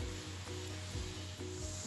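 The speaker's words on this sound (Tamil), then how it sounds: "புளி தண்ணி நல்லா கொதிக்குது." Tamarind water with salt, turmeric and chili powder boiling in a pot for vatha kuzhambu, giving a steady close bubbling hiss with faint periodic pops and no talk.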